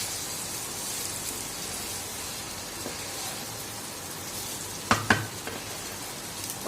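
Rice sautéed with salt in a pan for hilsa pulao gives a steady, soft sizzle throughout, with a couple of sharper scraping clicks from the spoon near the end.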